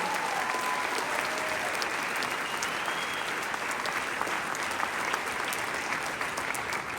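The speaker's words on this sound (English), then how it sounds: "Can we give her one more round of applause?" A large crowd at an HRC gala dinner in Chicago claps in a sustained round of applause, dense and steady, heard from some distance with a few scattered cheers.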